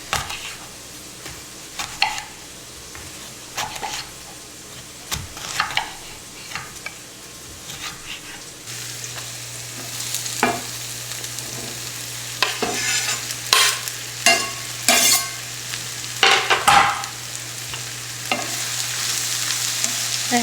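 Chopped little eggplants and onions frying in a pan and being stirred: steady close sizzle with repeated scraping stirs that grow busier and louder partway through, over a low hum, with no voices.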